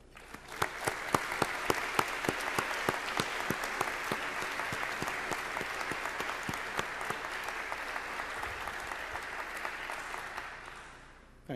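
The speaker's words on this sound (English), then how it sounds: "join me and the faculty in a round of applause for the families." Graduates and faculty at a Maxwell School MPA graduation convocation applaud the families, a sustained wash of many hands clapping that swells, holds steady and tapers off near the end.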